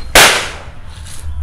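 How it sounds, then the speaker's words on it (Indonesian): Two Tikus Tor firecrackers buried in the ground go off as one sharp, loud blast, followed by a short decaying rumble and a faint second pop near the end. "nyalakan 2 mercon Tikus Tor sekaligus di dalam tanah"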